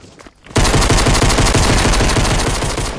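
Rapid, loud, continuous pistol fire from the video game Fortnite, a dense rattling burst of close shots lasting several seconds after a brief quiet start.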